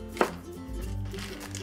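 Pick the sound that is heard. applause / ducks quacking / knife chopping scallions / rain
knife chopping scallions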